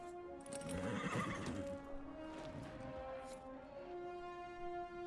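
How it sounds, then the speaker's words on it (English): A horse in Dragon Age: Inquisition gives a drawn-out neigh with a tonal, wavering whinny, heard close over a low hum of steady game ambience with no talk. "Come here, horse."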